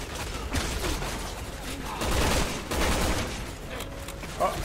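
Rapid gunfire bursts in the video game Resident Evil 6, during a helicopter fight, sounding as rattling volleys with short gaps, moderately loud amid game noise.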